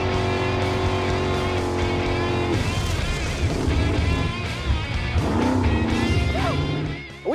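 A 680-horsepower big-block Chevy V8 jet boat accelerates hard on the water with a loud, roaring, rising engine note. It drops back briefly and then climbs again to a sustained howl, with no talking.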